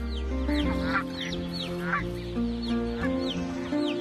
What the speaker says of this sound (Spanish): Hoy es un paraíso para la barnacla canadiense y otras aves acuáticas.